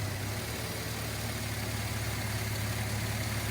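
A Subaru Tribeca engine idles steadily with its AC compressor running, a constant low hum and drone heard close and alone without pauses.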